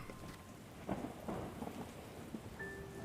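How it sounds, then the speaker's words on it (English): Steady rain hisses beneath low, rolling thunder, with a couple of heavier rumbles breaking through early on; the storm sounds moderately distant. "Ominous clouds and streaks of lightning fill the sky. The sound is deafening."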